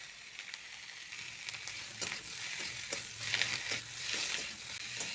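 Vegetables, semolina and chopped tomato frying in a pan for veg noodles, a soft sizzle with repeated scraping strokes of a stirring spoon, close but fairly quiet.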